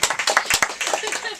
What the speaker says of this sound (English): Clap for me. Give me some applause.